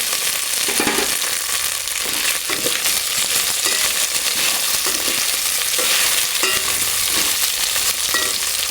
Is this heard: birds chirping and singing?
no